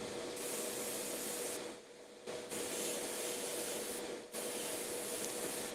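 A spray can primes a miniature model at a morning session of a gaming convention, with a loud, close, continuous hiss broken by two brief pauses between bursts.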